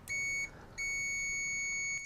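An Aneng SZ303 multimeter sounds its continuity beep, a short high tone, a brief gap, then a second, longer sustained beep, clear and close.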